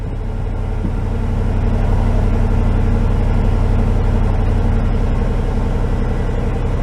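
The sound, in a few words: 1996 Chevrolet Tahoe engine idling at high rpm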